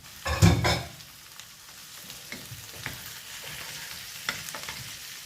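Tomatoes dropped into a pan of sauteed vegetables give a loud burst of sizzling and frying up close, then settle into a quieter steady hiss with occasional stirring clicks and scrapes.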